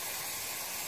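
A steady, close hiss of aerosol brake cleaner spraying continuously on M939 truck rear brakes, a broad rushing sound with no pauses and no talking.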